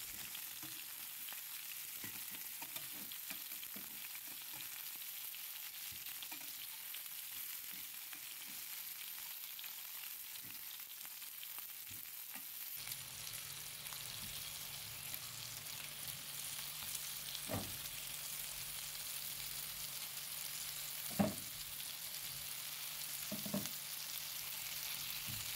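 Kofta meatballs frying in a pan for dawood basha, a steady, even sizzle and crackle throughout, with occasional soft clinks and knocks as pieces are turned or lifted out.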